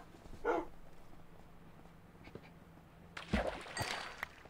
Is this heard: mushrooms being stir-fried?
no